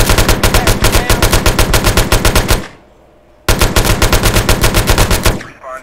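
Tec-9 submachine gun from a GTA Trilogy HD weapon sound mod, firing in two loud rapid automatic bursts of about two and a half seconds each, separated by a brief silent pause, in a video game.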